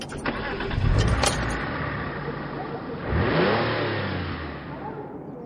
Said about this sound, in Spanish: arrancó el motor del coche